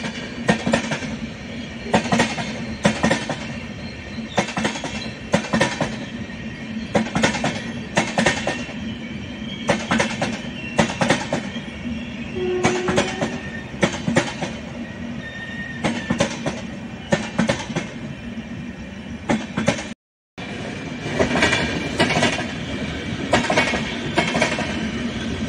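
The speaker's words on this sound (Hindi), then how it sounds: "ट्रैक साउंड सुनिए।" An AC express train runs on the Ajmer–Sealdah line in India, its wheels clicking over rail joints in a steady repeating clickety-clack. The sound comes close and loud over a continuous rolling rumble, with one brief dropout.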